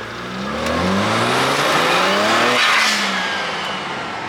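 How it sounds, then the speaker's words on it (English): BMW 335xi pulls hard under acceleration, the engine note rising steadily and loud, with broadband road and wind rush heard from nearby. A blow-off valve release may be part of the roar. "we'll get a pull right here and you can hear the blow-off valve"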